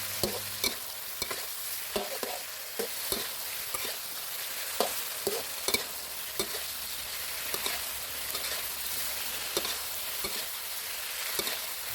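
Squid is stir-fried in a hot pan, a steady low sizzle carrying a string of quick spatula scrapes and clinks at an irregular pace, close and unaccompanied by speech.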